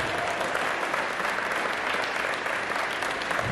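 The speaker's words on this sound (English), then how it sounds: "give yourself a round of applause for all of this" A crowd at a pilot graduation event bursts into continuous, even applause, a full wash of clapping at steady strength throughout.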